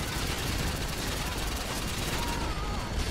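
Machine gun fire in a Call of Duty match makes a dense, loud, unbroken rattle that runs steadily for a few seconds, with no distinct pauses between bursts.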